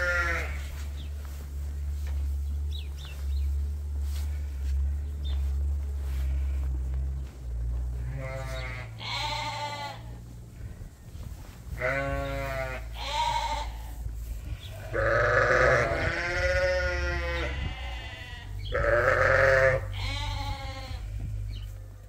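Sheep and lambs on a farm bleat repeatedly, several loud wavering calls rising from a quieter start over a constant low hum, some close and some farther off, with no talk.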